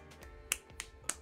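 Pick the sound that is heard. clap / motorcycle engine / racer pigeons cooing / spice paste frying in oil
clap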